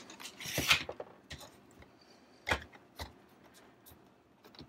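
A Raspberry Pi 4 slides into a 3D-printed plastic tray, giving quiet scrapes and clicks with a louder clack near the start and another in the middle, all close up and faint.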